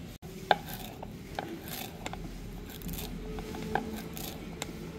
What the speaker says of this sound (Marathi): आता पहिले कोथिंबीर चिरून घेते फटाफट